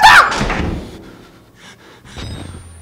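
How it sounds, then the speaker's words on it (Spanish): A heavy door slams shut with one loud, close thud at the start, then fades into quiet ambience with faint knocks, in the horror game Outlast. "¡Cierra la puerta!"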